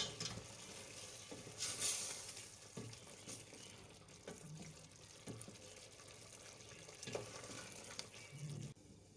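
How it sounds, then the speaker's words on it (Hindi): Chicken with onions, capsicum and yogurt for jalfrezi fries over a medium-high flame, a steady close sizzle with watery bubbling and occasional stirring knocks, no voices. "मीडियम टू हाई फ्लेम पे हम इसको कुक कर लेंगे।"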